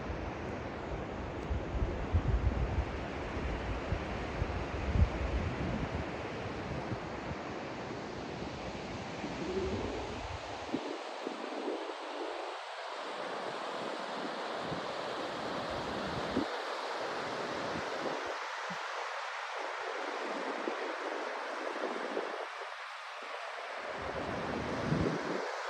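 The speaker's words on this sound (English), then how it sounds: "The waterfall and the river bringing down the glacial waters" Glacial meltwater waterfall and river rushing in a steady broadband roar, with wind buffeting the microphone in the opening seconds before the low rumble thins.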